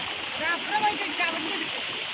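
Floodwater rushes past during extremely heavy rain in Wayanad, a steady close broadband roar of flowing water with small splashes. A faint voice may sit beneath it.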